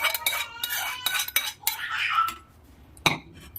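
A spoon scrapes and clinks against a steel bowl while curd rice is mixed by hand, a run of close, uneven stirring strokes followed by a quieter pause and one sharp clink.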